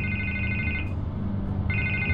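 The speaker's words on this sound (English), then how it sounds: "I can't get the phone to stop ringing." Telephone ringing in the Batman Telltale video game, two electronic trilling rings separated by a short pause, heard over a low rumbling background.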